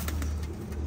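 Pigeons kept in a loft for sale cooing softly over a steady low hum, a faint continuous murmur with a few brief higher calls, no talking.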